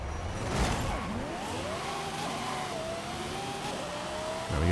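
A drag car engine in Forza Horizon 5 revs hard, its pitch climbing through several gear-like sweeps before settling into a sustained high whine, loud and close, and it briefly surges again at the end.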